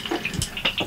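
Water drains from an RV's plumbing lines during a leak repair, giving a quick series of close drips and splashes with no talking.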